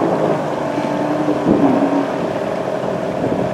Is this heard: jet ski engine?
yes